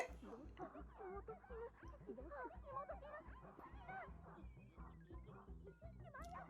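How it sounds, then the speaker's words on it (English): A dog whimpers and yips in the anime Bocchi the Rock, faint high whining cries mixed with excited voices and background music. "The dog!"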